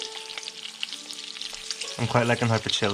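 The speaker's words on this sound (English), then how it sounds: "you can hear it just picking up speed or noise with the good old oil heating it up" Hot oil sizzling and crackling steadily as chili fries close by, joined partway through by a person talking over the frying.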